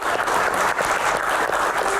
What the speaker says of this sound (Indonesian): Tepuk tangan untuk rekan-rekan semuanya yang ada di sini